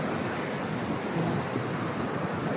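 Sea waves wash steadily onto a shore on the Cagayan coast, a continuous broad roar of surf mixed with some wind noise, close and fairly loud with no talking.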